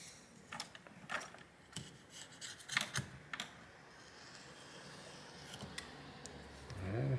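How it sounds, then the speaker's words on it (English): A small flathead screwdriver scraping around the screen edge of an Oppo R15 phone during a screen replacement, faint close ticks, clicks and light scratches scattered in short bursts. "If I use a small flathead screwdriver, I should be able to scrape the outer perimeter like that."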